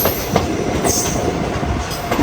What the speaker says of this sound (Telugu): మన ట్రైన్ వరంగల్ స్టేషన్ లోపలికి అయితే ఎంటర్ అవుతుంది